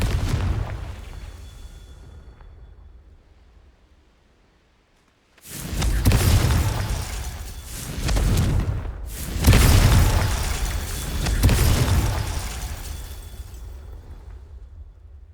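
A Confringo spell explosion in the video game Hogwarts Legacy: after a quiet fading lull, a loud deep blast erupts, then a second heavy roaring burst follows after a brief gap, rumbling on for several seconds without voices.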